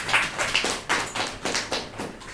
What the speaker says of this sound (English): Maybe we can clap for now